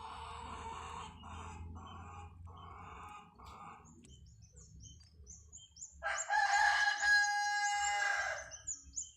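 A live chicken in a seaside ritual offering in Sulawesi clucks in short rhythmic bursts, then lets out a loud, close crow near the end, over low background rumble.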